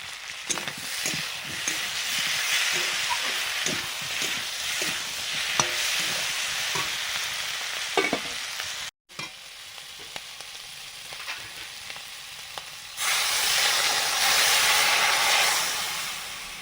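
Potatoes frying with salt in a pan, a continuous sizzle broken by clatter as they are stirred, with a brief cut partway and a stronger hiss near the end; no voices.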